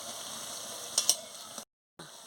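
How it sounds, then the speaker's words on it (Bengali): Coriander leaf fritters frying in hot oil give a steady close sizzle, with a couple of brief scraping clinks of a utensil midway before a short cut. "দেখুন আমি লাল লাল করে এগুলোকে ভেজে নিচ্ছি"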